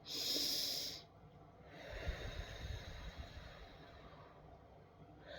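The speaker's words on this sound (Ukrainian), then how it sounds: "трішечки пальчиком утримувати щічки і робити видих" A forceful exhale through puffed cheeks held with a fingertip during a breathing exercise, one short loud airy puff followed by quieter breathy noise and a faint rustle.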